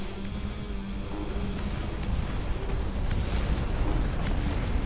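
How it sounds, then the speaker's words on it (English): Artillery fires in the real-time strategy game Dustfront RTS as a dense, continuous rumble of overlapping booms and blasts, steady and fairly loud throughout. "So I just want to see a bunch of artillery."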